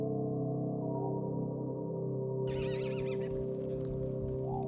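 A horse neighs on a Mongolian family farm, a clear whinny rising midway through over a steady tonal background, moderately loud and without talking.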